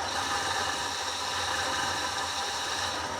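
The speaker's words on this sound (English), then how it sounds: "It's not running good, but it's idling at like 400 RPM" The engine of a 1976 Ford F250 crew cab truck, abandoned for 20 years, idles roughly at low RPM, a steady rattling, vibrating drone heard close with no speech.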